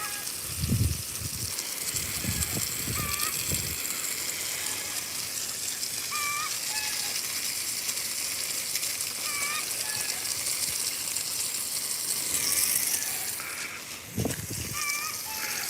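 Garden hose water pours steadily onto the soil at the base of a flowering Plinia "Anomaly" jaboticaba tree, a continuous splashing gush with bird chirps scattered over it and brief low thumps of handling.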